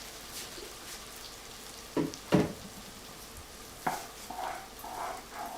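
Jackfruit puree sautéing in a pan, a soft, low sizzle under a few sharp scraping stirs and light clinks of a utensil against the pan, fairly quiet, with no talking.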